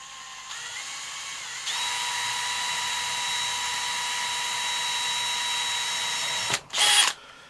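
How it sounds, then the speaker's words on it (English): A power drill drills into a guitar with a steady high whine for several seconds, then revs up sharply into a brief louder burst before stopping. "this drill bit's even worse"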